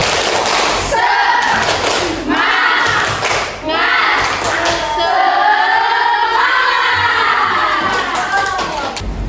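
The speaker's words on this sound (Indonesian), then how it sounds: "Coba tepuk semangat" Students in a religious education class do a rhythmic spirit clap, chanting and shouting together in bursts. The loud group voices rise and fall, with thumps and claps mixed under the chant.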